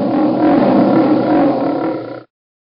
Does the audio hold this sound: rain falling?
no